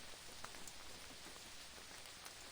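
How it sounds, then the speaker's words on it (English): Steady rain falls in a video game scene, a continuous even hiss of drops on surfaces with a few brighter patters, fairly quiet and alone with no voices. "Oh, it's raining. It's starting to rain."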